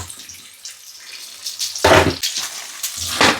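Water splashes and pours in short bursts into a pan of blueberries, with a faucet-like rush rising and falling.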